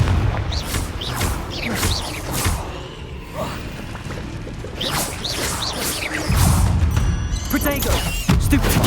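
Confringo fire-blast spells in the video game Hogwarts Legacy burst repeatedly during combat, giving several loud booming whooshes with crashing impacts amid busy game effects.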